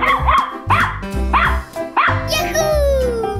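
A dog barks repeatedly in Animal Revolt Battle Simulator, four or five loud, close, evenly spaced woofs, with a rising whine-like tone trailing at the end.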